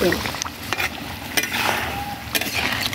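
Tel koi, a fish curry, is stirred in a frying pan: a spoon scrapes and clinks against the metal in irregular strokes over a constant close sizzle of hot oil.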